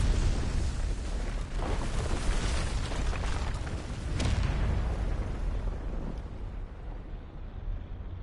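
An Earthring Fury attack explosion from the video game Final Fantasy 16: a loud, sustained rumbling blast with crackling bursts that swell near the midpoint, then slowly settle into a lingering roar.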